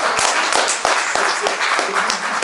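Closing-session audience in Nantes applauding, a dense, steady wash of many hands clapping throughout, with sharper individual claps standing out now and then.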